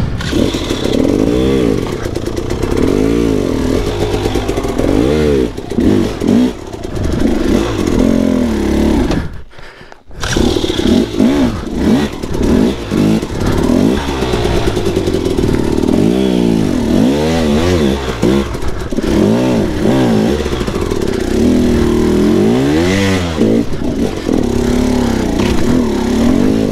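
KTM 300xc two-stroke dirt bike on a rocky trail climb in Penrose, Colorado, its engine revving hard and loud in rising and falling bursts with one brief cutout midway.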